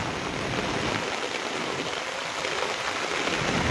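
Heavy rain pours steadily in Palampur, a dense, even hiss of downpour that holds constant throughout, close and loud with no voices.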